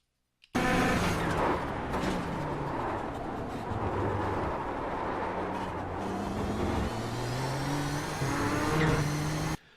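Nissan GTP ZX-T race car in the iRacing video game, engine roaring steadily at speed around Laguna Seca with rising and falling revs through gear changes, loud and continuous throughout.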